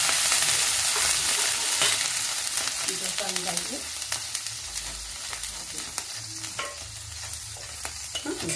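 Banana appam batter fries in oil in a pan, a loud steady sizzle with crackling and occasional stirring scrapes and utensil knocks, close by.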